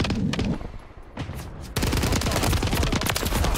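Rapid automatic gunfire fills a Call of Duty MW3 match, dense bursts of shots rattling loudly with a brief lull before a sustained, heavier stretch of continuous firing.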